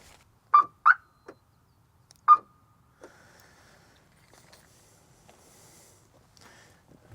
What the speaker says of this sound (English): Very 90s sounding alarm.